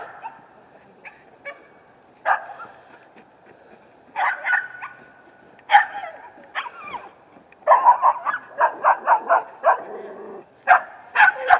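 Several dogs bark and yip in irregular bursts, some quick volleys of sharp barks, mid-distance and fairly loud, with no talking.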